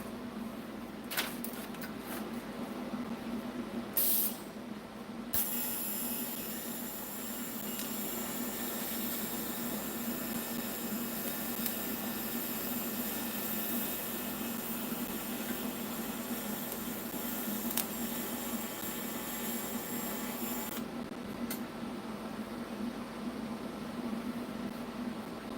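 Home welding on a Sunday, a steady continuous hiss and crackle with a constant hum underneath, holding evenly for about twenty seconds with brief pauses near the start.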